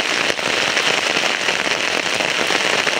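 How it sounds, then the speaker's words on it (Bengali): Heavy rain pours down near a fishing spot, a dense, loud, continuous hiss of drops striking surfaces, steady throughout with no voices. "বৃষ্টিটা আবার জোরে আসলো"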